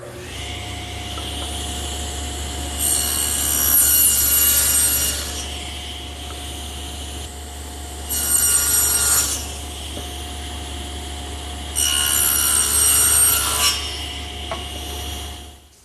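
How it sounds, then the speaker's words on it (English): A table saw fitted with an adjustable dado head cuts wood, blanket chest pieces, in three separate passes, each a loud, bright cutting burst over a steady motor hum, with no talking. "Now I've removed my regular table saw blade and installed this adjustable dado head"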